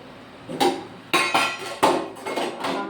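Besan and rice being served onto a plate at home, four or five distinct metallic clinks and clanks of a serving utensil against the plate, close and fairly loud, with no talk.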